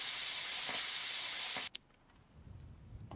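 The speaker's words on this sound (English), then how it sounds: "now we can grab our plasma cutter and cut this whole floor pan off" A plasma cutter slices through a car floor pan with a loud, steady hiss. It cuts off abruptly and leaves a quieter background of shop noise.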